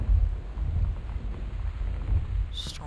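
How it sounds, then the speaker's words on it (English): A thunderstorm in the video game Gone Home, with low rumbles and the steady wash of rain and wind throughout, plus a brief higher sound near the end. "That's no normal storm."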